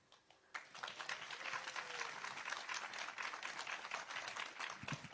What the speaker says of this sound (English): All right, another round of applause for Amber McReynolds, everybody.